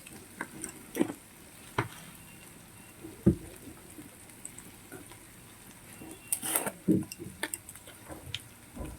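Spices fry with ginger, garlic and onion in a pan under soft sizzling, broken by scattered scraping stirs and clinks, close but fairly quiet.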